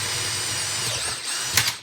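Power drill boring a clearance hole through 1.5 inch wood stock, a close steady motor whine that dips under load and ends with a brief rattling catch as the bit breaks through.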